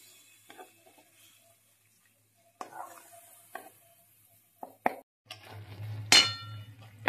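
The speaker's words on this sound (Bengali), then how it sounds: "জিরে গুঁড়ো, কষাবো ভালো করে মশলাটা।" Ground cumin and a spice masala fry in a pan with sparse clinks and scrapes of stirring, broken by quiet pauses, and a brief burst of sizzling near the end.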